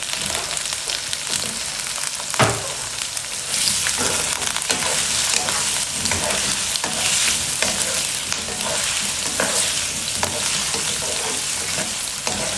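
Ginger garlic paste fries in hot oil in a pan for an okra dish, a steady loud sizzle running throughout with occasional stirring scrapes and clinks, no talking.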